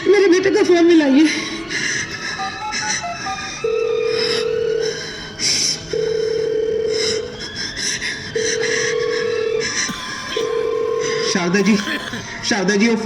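A telephone call placed during a school Grandparents' Day skit, with a repeated ringback tone sounding about four times in even bursts while voices and laughter carry on around it.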